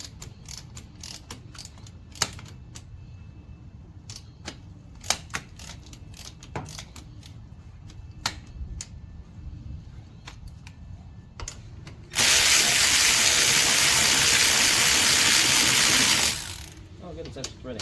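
A ratchet tightening a bolt while fitting a cold air intake on a Nissan G35 Coupe, heard as a long string of sharp, close clicks, then a loud, steady rushing noise that runs for about four seconds before stopping.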